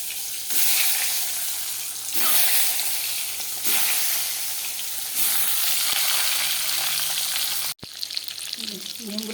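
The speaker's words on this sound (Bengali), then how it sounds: "এই যে কড়াইতে তেল দিয়ে দিলাম, এখন ডিমগুলোকে তেল দিয়ে দিলাম, একটু হলুদ আর লবণ দিয়ে দিলাম, ডিমগুলো ভেজে নিতে।" Eggs frying in hot oil with turmeric and salt in a wok, giving a loud, steady sizzle that swells in repeated bursts before a sudden break and a quieter spatter.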